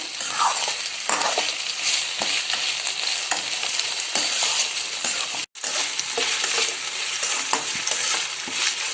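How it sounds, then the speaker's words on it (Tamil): Ivy gourd sautés in oil in a pan, giving a loud, continuous close-up sizzle broken by regular scraping stirs of a spatula, with a brief dropout midway and no talk. "ஒரு 5 மினிட்ஸ் நல்லா வதங்கட்டும்."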